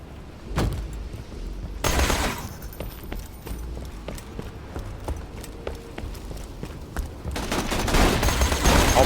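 A corrosive gun in Borderlands 2 fires big green balls in sharp, loud shots, some in quick bursts and some spaced apart, over a low game background.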